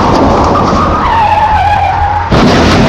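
A car skids hard under braking, a loud tyre screech with a falling whine that runs about two seconds before a burst of broadband noise, with no talking.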